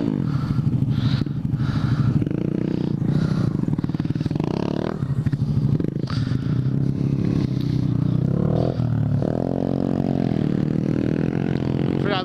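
Honda Grom motorcycles riding off-road on a dirt track at Colliers Mills in Jackson, New Jersey, their small engines droning loudly and steadily up close with rising revs and rattling clatter throughout.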